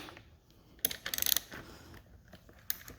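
A socket ratchet loosens the 10mm upper handlebar clamp bolt on a 2019 Yamaha YZ250X, with a quick burst of rapid metallic clicks followed by a lone click, close and fairly quiet in a still room.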